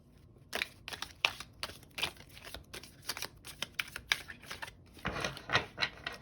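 Tarot cards are shuffled by hand in a series of quick crisp riffling bursts and flicks, close and fairly quiet, ending in a longer rustling shuffle.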